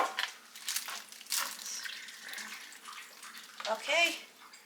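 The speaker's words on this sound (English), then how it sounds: "I'm gonna fill up this can with halfway with some water" Tap water pours into a can until it is half full, a steady splashing rush with changing pitch as it fills, close but fairly soft, with a voice speaking briefly over it.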